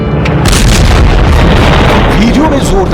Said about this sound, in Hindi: वीडियो में जोरदार धमाके के साथ ही बुलडोजर एक जगह रुक जाता है।